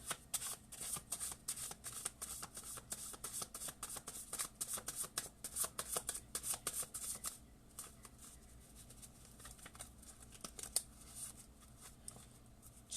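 Tarot cards shuffled steadily by hand during a reading, a dense run of crisp riffling slaps and flutters for about seven seconds, then sparser soft card handling with an occasional sharper snap; no talking.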